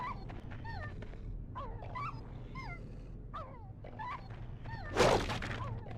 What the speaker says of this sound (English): This dog is also stuck playing the same sound effect.